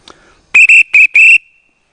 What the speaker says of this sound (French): Pas un briquet, pardon, un sifflet.